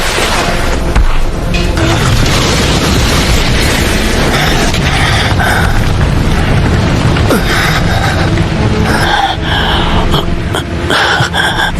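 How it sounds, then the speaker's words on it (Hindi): A Fire Style Dragon Flame Jutsu in a Naruto Shippuden anime fight, a loud sustained roaring blast of flame that fills the whole stretch, rumbling and rushing with flickering bursts toward the end. "Fire style, dragon flame jutsu."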